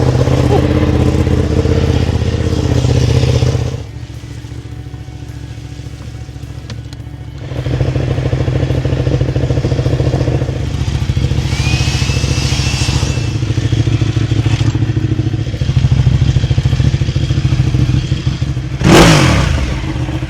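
A motorcycle, freshly washed, starts and runs to warm its exhaust, giving a close, rumbling idle with a few blips of revving. Speech occurs alongside the engine.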